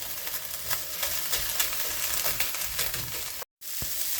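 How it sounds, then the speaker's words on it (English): Mushrooms and ham fry and toast in a pan in a travel trailer kitchen for Chinese fried rice, a steady close sizzle with crackles and a short dropout near the end. "And we'll throw the mushrooms in here to start toasting up as well."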